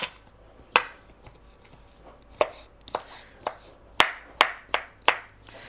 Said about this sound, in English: I have some whole sweet pickles, but I'm just going to cut them up and make me a little relish